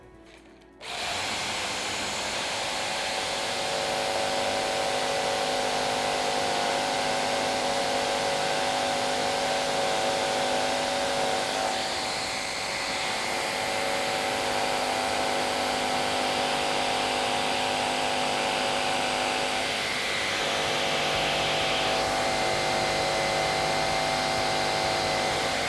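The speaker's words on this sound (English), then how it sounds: "Let's make the same cut with the same blade on the Bosch." A Bosch jigsaw cuts through wood with a loud, steady, high-pitched motor whine and rapid blade buzz that holds for most of the run, with slight shifts in pitch as the cut progresses and no talking.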